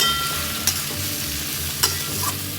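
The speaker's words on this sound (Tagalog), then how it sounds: "So, haluin mo lang siya." A spoon stirs potatoes and okra frying in a pan on a stove, with a steady sizzle underneath and a couple of brief scraping strokes against the pan.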